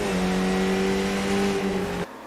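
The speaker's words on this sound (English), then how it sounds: "So coming in at number 5 is the iRacing Skip Barber" Simulated iRacing Skip Barber 2000 open-wheel race car engine droning loud and steady at high revs, with a slight pitch dip before cutting off abruptly near the end, no talk.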